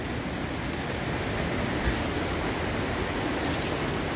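A waterfall in a well-preserved wild habitat gives off a constant, dense rush of falling water, a loud, even roar with no pauses or change in level.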